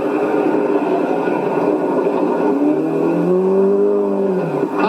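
A rally car pulls away, its engine note climbing steadily over a rough, continuous rumble of road noise and ending with a rising rev.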